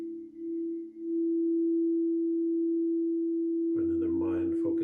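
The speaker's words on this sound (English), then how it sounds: "These are Crystal Tones Alchemy bowls." A Crystal Tones Alchemy crystal singing bowl rings as a single pure, steady sustained tone after a couple of brief dips near the start. A low voice starts speaking over the ringing toward the end.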